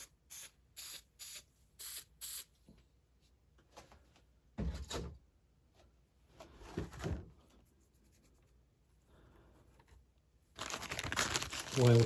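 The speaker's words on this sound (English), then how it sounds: "just give some additional hairspray" Short bursts of hairspray from an aerosol can onto a homemade model tree, several quick puffs early on then a longer sustained spray at the end, with light handling rustles in between.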